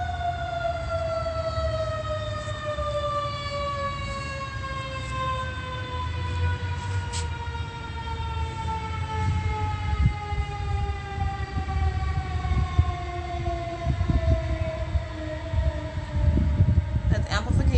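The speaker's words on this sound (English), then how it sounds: "that's the fire department, sirens." A long, sustained fire engine siren wail drones with a slowly falling pitch, steady and fairly distant, with low rumbling traffic noise and faint voices beneath.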